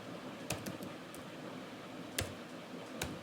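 Keys tap on a computer keyboard at a quiet desk, a few sparse clicks spread over a faint steady background hiss.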